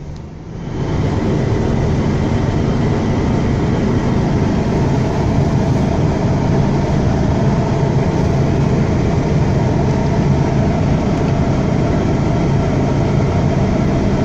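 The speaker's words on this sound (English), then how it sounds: "Right now it's got an automatic choke, so it's going to idle high and it'll warm itself up." A 1986 car engine starting cold and then idling high on its automatic choke, a loud, steady, dense running rumble sustained without pause after a brief crank.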